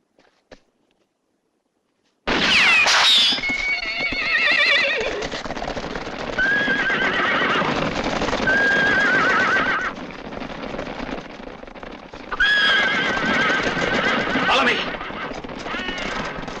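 Horses neigh and whinny loudly in a Western setting, with sharp repeated calls over clattering hoofbeats after a brief quiet opening, the whinnies returning near the end.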